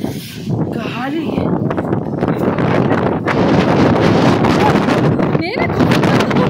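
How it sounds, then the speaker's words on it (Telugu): Strong wind on a hilltop at Horsley Hills buffets the microphone with loud, rumbling gusts that build steadily, while voices speak over it. "గాలి,"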